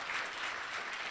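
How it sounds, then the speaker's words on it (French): Audience applause for a gendarmerie warrant officer at a staged event, a brief, faint, even wash of clapping with no voices. "sous vos applaudissements nourris"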